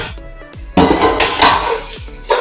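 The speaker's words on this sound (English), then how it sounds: "I'm going to cover and allow it to fry for 5 seconds" A metal lid is set over a pot of tomato paste frying on the stove, giving a few loud clanks and rattles followed by a steady hiss of sizzling underneath, close and without speech.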